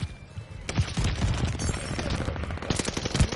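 Rapid bursts of video game gunfire crackle up close and loud in a dense, continuous volley of sharp shots with a few heavier booms, in a frantic online shooter match.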